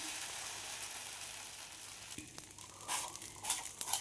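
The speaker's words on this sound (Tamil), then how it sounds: "தோசைக்கல் காஞ்சிச்சிங்க தோசை ஊற்றிக்கலாம்" Dosa batter meets a hot dosa griddle with a faint, low sizzle, then a few sharp scraping and tapping clicks near the end as it is spread and worked.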